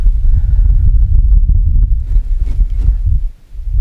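Loud, rumbling wind of about 2 to 2.5 metres per second buffets the microphone in continuous low gusts, briefly easing near the end, outdoors while ultralight fishing in September.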